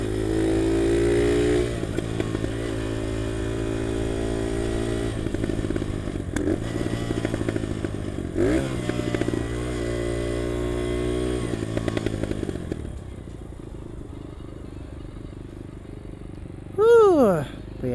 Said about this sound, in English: These corners feel so much different on the dirt bike.